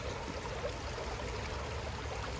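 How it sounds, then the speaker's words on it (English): Forest stream water flows and trickles in a steady, continuous rush that holds an even level throughout, close and fairly loud with no voices over it. "when you hear the water"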